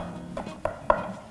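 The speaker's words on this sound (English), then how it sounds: "you're just going to start chopping the egg in" A pastry cutter chops an egg into flour and butter in a mixing bowl, giving three or four soft, dull knocks close by with quiet pauses between them.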